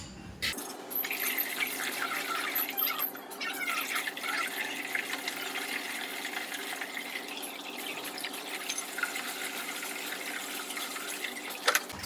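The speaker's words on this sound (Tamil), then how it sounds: "3 குடம் தண்ணி ஊற்றியாச்சு." Water from a pot pours steadily into the tank of an air cooler, a continuous splashing fill that runs close and fairly loud for the whole stretch with no talk.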